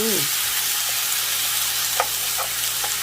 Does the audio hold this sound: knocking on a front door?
no